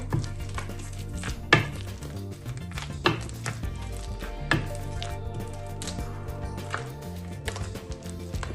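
Cooked food is mashed by hand for a sweet porridge made with a purple yam, giving soft squishing and scraping sounds with occasional sharp knocks of a utensil against a pot, set over steady background music.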